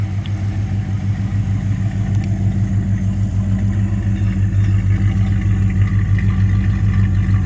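A 1987 Jeep Grand Wagoneer with a rebuilt AMC 401 V8 idling nearby, a steady, even low rumble with a smooth pulsing beat and no talking.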